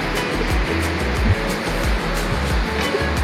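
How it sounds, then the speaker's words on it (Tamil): Water pouring down at Gundaru dam falls, a steady, loud broadband rush close by with no break, and no voices over it. "தண்ணி வந்து இப்படி விழுது."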